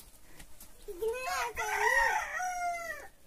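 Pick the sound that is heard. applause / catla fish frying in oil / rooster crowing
rooster crowing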